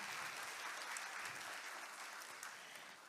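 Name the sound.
applause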